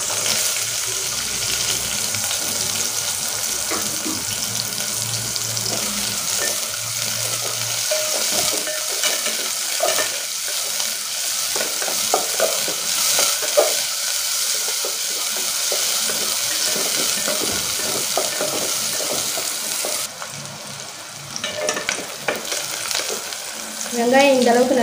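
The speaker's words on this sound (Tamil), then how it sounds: "ஆயில் நல்லா சூடான பிறகு ஒரு கைப்பிடி அளவுக்கு சின்ன வெங்காயத்தை கட் பண்ணி வச்சுட்டு சேர்த்துக்கோங்க." A handful of small onions sizzling in hot oil for sambar, a dense continuous frying hiss with intermittent scraping stirs, and a brief tap-water splash near the end.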